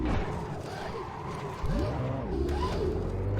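A race car engine in the video game Assetto Corsa, during a 24-hour Le Mans race at night, revs and whines, pitch sweeping up sharply as it accelerates, loud and continuous.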